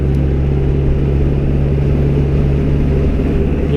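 A Caterham sports car drives through the hilly Oberbergisches Land, its engine giving a loud, steady, throbbing rumble heard close up from the cockpit with no break.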